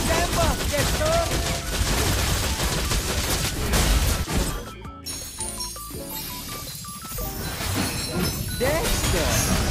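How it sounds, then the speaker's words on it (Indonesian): Gunfire in a video game, rapid shots in dense bursts layered over loud game sound and music, with a brief drop-out midway before the firing continues. "Tembak, Dexter!"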